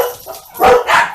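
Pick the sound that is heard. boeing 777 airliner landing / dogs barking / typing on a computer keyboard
dogs barking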